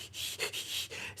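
Breath pushed through a jaw harp, three or four soft airy puffs in a steady rhythm, close and fairly quiet, with a faint reedy twang under the rushing air.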